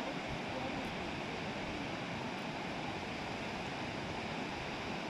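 After rain the swollen Shuklagandaki river rushes past, a dense, steady roar of flowing water that fills the air evenly without any break.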